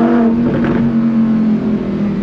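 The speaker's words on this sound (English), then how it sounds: "Ah, that noise, naturally aspirated V10." Naturally aspirated V10 of a Lamborghini Huracán Performante Spyder, warmed up and revving: a loud, steady, close engine note with a brief rise in pitch partway through, alone with no talk.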